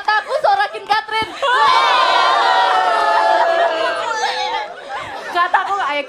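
A group of girls cheers and jeers together, a loud sustained burst of shouting that swells after a few scattered voices, then breaks back into chatter and laughter near the end.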